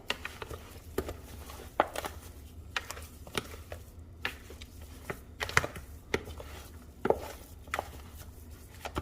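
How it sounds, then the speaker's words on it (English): Pork ribs tossed with cornstarch and white pepper in a bowl, giving irregular clacks, knocks and soft patting thuds in a quiet kitchen, close up with no talking. "Now I'm just going to give these a good mix and coat and combine everything well."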